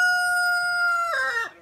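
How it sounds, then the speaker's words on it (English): A rooster crows loudly and close by in a backyard chicken pen, one long harmonic call ending in a falling tail, with faint clucking from other chickens underneath. "And chickens."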